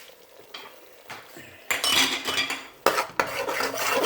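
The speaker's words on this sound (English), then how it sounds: "Stir it up, blend it well." Metal spoon stirring Spanish rice seasoned with black pepper, oregano and cumin in a pan on a gas stove, loud scraping strokes in two bursts with light clinks, close by.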